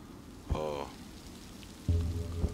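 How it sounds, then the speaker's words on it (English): Rain in the video game RoE, a steady wash of rainfall across the whole stretch, fairly faint, with two brief tonal game sounds layered over it. "And the rain comes again."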